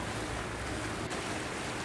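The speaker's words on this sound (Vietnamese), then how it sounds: "Hôm nay cửa cảng tương đối sóng gió cũng lớn các bạn." Rough sea waves and strong wind at a harbor mouth, heard as a constant, dense roar of surf and gusting wind with no voices.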